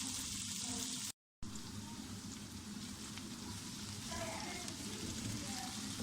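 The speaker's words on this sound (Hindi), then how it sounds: "पहले हम प्याज फ्राई करेंगे। हल्के से गुलाबी हो जाए।" Onions sizzling and frying in a pan at home for a mutton karahi, a steady soft crackling hiss throughout, briefly cut out by a gap near the start.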